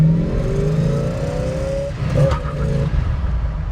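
A 1966 Ford Fairlane 500 engine pulls hard in first gear, its loud, close revving rising steadily in pitch before a brief shift and a renewed climb.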